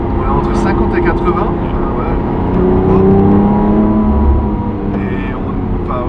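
A Lamborghini Aventador SVJ engine revs and pulls hard in second gear, a loud, steady drone with rising harmonics heard from inside the car, with people talking over it.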